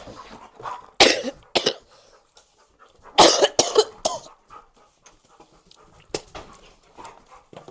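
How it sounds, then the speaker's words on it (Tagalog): Several sharp coughs in short bursts, close by, with quiet pauses between them and a brief throat sound near the end. "Inuubo ako kasi may sakit ako."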